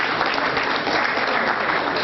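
An audience claps for a 78-year-old former general at his book unveiling, with dense, steady applause filling the whole stretch and no one speaking over it.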